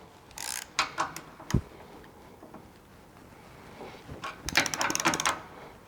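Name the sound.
tightening M6 screws on Polaris Ranger door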